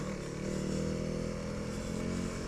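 A Honda CRF300L dual-sport motorcycle engine runs at a steady, even speed, a constant close droning hum with no revving and no voices.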